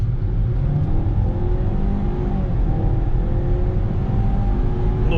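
A Ford Escape small SUV accelerating on throttle, its engine a steady, loud droning hum heard from inside the cabin as it gathers speed, with no talking.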